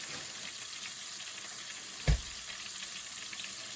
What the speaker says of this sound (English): the cast iron can't be beat when it comes to frying that chicken crispy